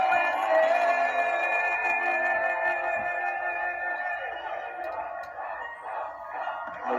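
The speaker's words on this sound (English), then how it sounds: "We're seeing a lot of chants from the crowd. It sounds like a very excited crowd right there." Excited crowd at a Trump rally, chanting before his speech, a sustained chorus of voices holding steady and then fading slightly, heard from a distance with no separate speaker.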